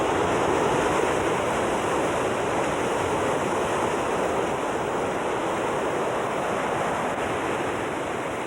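Cold December sea waves wash onto the shore in a steady, dense roar of surf, continuous and fairly loud with wind-like hiss and no break in the rushing water.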